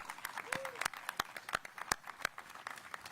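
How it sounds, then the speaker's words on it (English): A small crowd at the unveiling of a Siemens facility expansion in Spartanburg gives scattered, distinct claps, fairly faint and distant, with voices murmuring underneath. "So a round of applause for the Spartanburg team"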